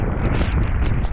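Strong typhoon wind gusting against a microphone, a loud continuous roaring rumble with buffeting surges throughout the short stretch, no voices.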